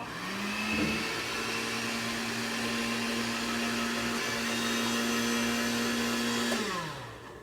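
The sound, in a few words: blender pureeing chickpeas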